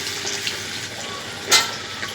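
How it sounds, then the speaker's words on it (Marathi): Urad dal vadas are dropped into hot oil in a kadhai and fry with a steady, close bubbling sizzle, one sharper splash and hiss standing out partway through, with no talk. "तेल चांगलं गरम झालं आता हे वडे मी याच्यात सोडते"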